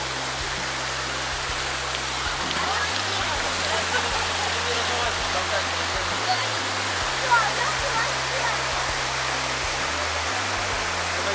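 The Polikar waterfall roars as a steady, close rush of falling water, loud and unbroken for the whole stretch, with a low hum beneath it and no speech heard over it.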